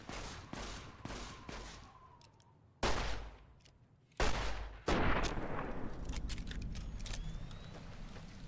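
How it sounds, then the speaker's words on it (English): Modded Fallout: New Vegas gunfire with several loud, sharp shots and bursts, some closely spaced, cutting through quieter stretches and ending in a long noisy tail. "What are you shooting at?"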